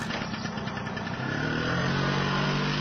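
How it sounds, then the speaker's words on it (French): A small scooter engine running steadily and close, a continuous buzzing drone that holds level and swells slightly as it rides past. "Petit scooter."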